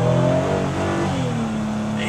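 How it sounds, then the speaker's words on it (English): A 2011 Toyota Sienna minivan accelerating hard from about 20 mph, its engine note rising and climbing steadily in pitch, heard from inside the cabin over road noise. "Alright, 20 miles an hour, I'm going to hit the gas."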